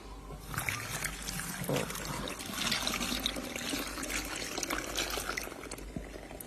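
Water from a tap poured into a jar of pickling cucumbers, a steady close splashing trickle that runs the whole time with no one speaking.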